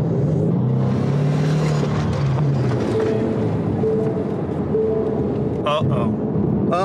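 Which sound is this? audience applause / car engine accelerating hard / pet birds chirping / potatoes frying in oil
car engine accelerating hard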